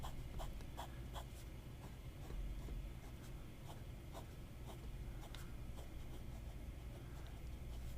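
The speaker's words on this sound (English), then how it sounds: "Fast writing." Quick, continuous scratching of a Majohn RS3 fountain pen nib across paper during fast writing, close and steady with rapid strokes, heard alone.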